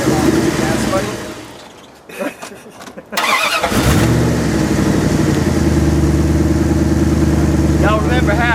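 A truck engine running on wood gas gives a short rev, drops away briefly, then restarts and settles into a steady, fairly loud idle with a strong low rumble.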